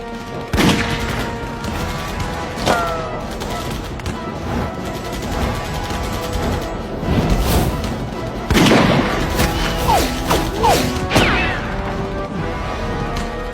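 Gunfire from a war movie battle scene, with repeated sharp shots and heavier booming blasts scattered through a dense, busy mix that stays loud throughout.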